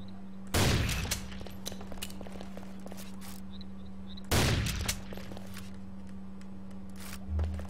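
Two loud gunshot bursts ring out about four seconds apart in the Hell Way 3 online shooter during a clan war match, each followed by a fading tail over a steady low hum, with a softer thump near the end.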